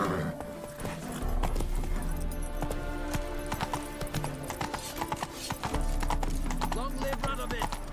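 Roach the horse gallops in Witcher 3, with rhythmic hoofbeat clip-clops, a brief whinny and background music running throughout.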